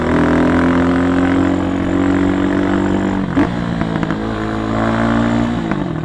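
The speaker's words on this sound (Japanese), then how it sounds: "エンジンブレーキの時のアフターファイヤーの音が面白いですね。" Kawasaki D-tracker 292cc motorcycle climbing a mountain pass, engine droning steadily near and loud, with a few sharp afterfire pops crackling on engine braking midway.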